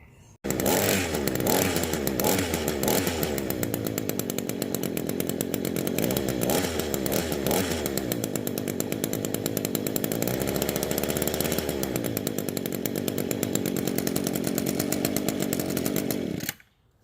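A hedge trimmer's cutting teeth are sharpened with a power tool, a loud continuous high-pitched grinding whine that runs steadily for over fifteen seconds before cutting off abruptly.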